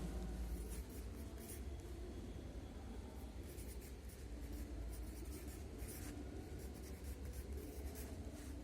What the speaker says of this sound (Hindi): हम यहाँ पर लिखेंगे बुद्धिमान।